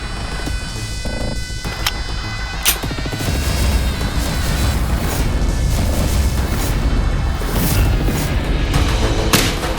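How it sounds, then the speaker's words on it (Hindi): A gunshot rings out in a Hindi television drama, a single sharp crack early on, with a second snap near the end, set against a dense, continuous dramatic music bed. "किसी ने गोली चलाई"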